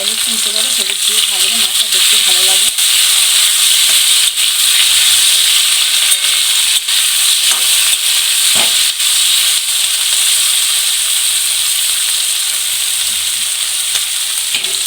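Shrimp frying in hot oil with turmeric, a loud, even hiss and sizzle throughout with occasional stirring clinks, and a short stretch of voice near the start.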